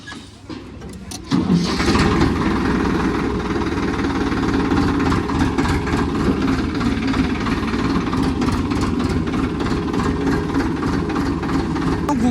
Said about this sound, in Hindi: अब ट्रैक्टर को खड़ा कर देता है